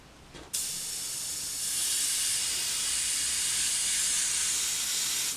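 A steady, loud hiss of air escaping from a loose connection on an Iwata CR Plus airbrush starts abruptly after a brief pause and continues without a break, swelling slightly partway through.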